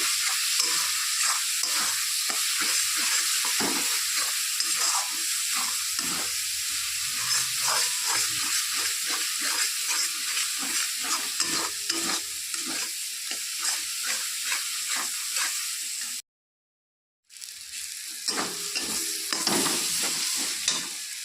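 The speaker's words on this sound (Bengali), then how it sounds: "তো মশলাটাকে ভালো করে কষিয়ে নিতে হবে" Spice paste for a Bengali fish kalia sizzles steadily in a pan under repeated stirring scrapes, with a brief silent break near the end before the frying and stirring resume.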